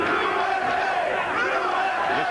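A crowd at a USA versus Cuba boxing dual meet cheers loudly and continuously for a fighter, with a dense roar of voices and shouts sustained throughout.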